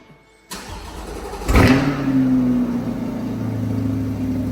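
A Chevrolet Corvette C8 Stingray with quad sport exhaust starts up after a brief silence, barking loudly into a rev and then settling into a rumbling, steady idle close by.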